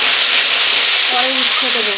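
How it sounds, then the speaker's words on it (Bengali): Washed potatoes frying in oil left over from frying fish give a loud, steady, close hiss of sizzling, with a voice faintly audible under it toward the end. "মাছের তেলেই ধুয়ে রাখা আলু দিয়ে দেবো। আলুটা আগে ভালো করে ভেজে নেব,"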